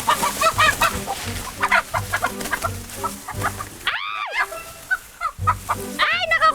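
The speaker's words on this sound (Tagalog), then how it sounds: "Maghahabol lang kami ng mga manok." Chickens clucking and squawking loudly in a farmyard as people chase and grab them in Tiaong, Quezon, with agitated bursts of cackling, a sharp alarmed shriek midway, and frantic fowl calls close by.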